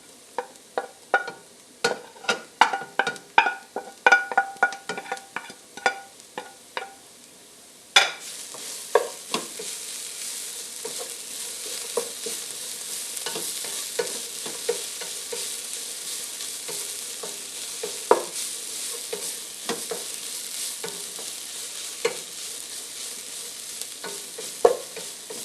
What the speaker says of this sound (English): Sweat those veggies down a few minutes, stir them up.